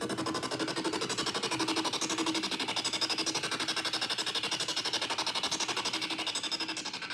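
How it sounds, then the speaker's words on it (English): Hybrid morph gated synth effect in an electronic track, a dense buzzing texture chopped into fast, even rhythmic pulses, steady and fairly quiet throughout with no voices. "then I added this hybrid morph gated thing, which sounds like this"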